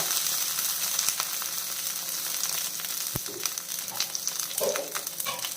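Cumin seeds sizzling and crackling in hot oil with curry leaves in a pan, a steady dense frying hiss with small pops and an occasional sharp tap, close and moderately loud with no talking.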